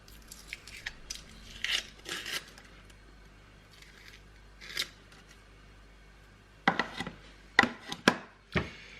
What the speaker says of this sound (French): Ensuite, je vais couper mon oignon.